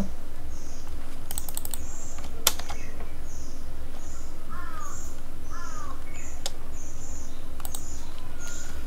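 Short bursts of clicking keystrokes on a computer keyboard, sparse and fairly close, while chirping bird calls repeat steadily in the background.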